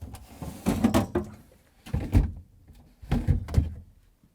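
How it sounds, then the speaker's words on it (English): Drawers being slid out of a Samsung refrigerator's fresh food section, three bursts of close plastic scraping and thudding separated by short pauses. "Let's remove the drawers."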